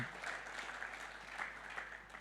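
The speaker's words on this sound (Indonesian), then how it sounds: "Beri tepuk tangan yang meriah bagi Tuhan kita." A congregation claps during an online Sunday church service, with faint, continuous applause carried at low level for a couple of seconds.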